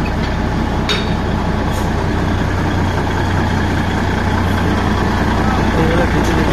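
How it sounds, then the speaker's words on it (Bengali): A Darjeeling train's diesel locomotive idles close by with a heavy, steady low rumble, the continuous engine drone running under faint background voices. "এইগুলো ডিজেল ইঞ্জিনটা সামনে থেকে দেখাচ্ছি"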